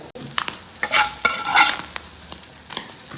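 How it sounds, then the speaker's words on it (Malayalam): Fish frying in a pan, a steady crackling sizzle with scraping stirring strokes and a few louder clatters, close and fairly loud with no talking. "അങ്ങനെ നമ്മളെ മീൻ പൊരിച്ചത് റെഡിയായി"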